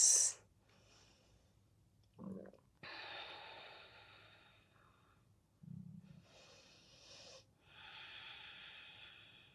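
Slow, deep breathing in and out during a gentle yoga practice, several long breath sounds close to the microphone with quiet gaps between them and no talk over them.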